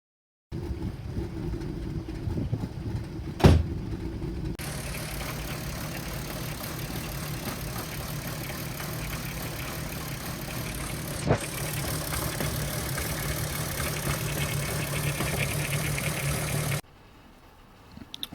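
A Volkswagen Golf R32 Mk5 with a 3.2 litre VR6 petrol engine idles steadily close by, a continuous mid-pitched hum with light rattle that runs evenly for most of the clip before cutting off.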